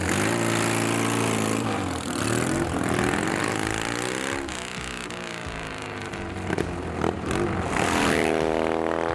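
A Triumph Thruxton café racer motorcycle's oversized engine runs close by, its throbbing note rising and falling as the rider revs and pulls away, loud and continuous with no talk.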